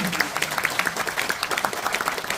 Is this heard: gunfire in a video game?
no